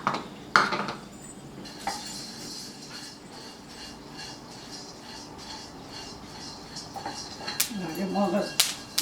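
Melon seeds dry-roasting in a pan for sesame laddu, with light rattling and scattered clinks of a utensil stirring against metal, and a brief voice near the end.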